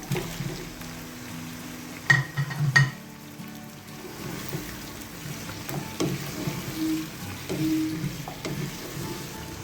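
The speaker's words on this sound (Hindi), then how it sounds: "मैं आधा किलो के करीब मैं ये गोश्त भी डाल रही हूँ।" Chunks of mutton for Sindhi biryani fry in a pot, giving a steady moderate sizzle, with a couple of sharp clatters early on and soft stirring scrapes throughout.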